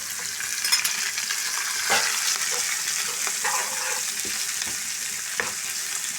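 Chopped onion and green chillies with ginger-garlic paste frying in oil for a pork roast, a constant soft sizzle with occasional utensil taps and stirring scrapes, close and fairly quiet.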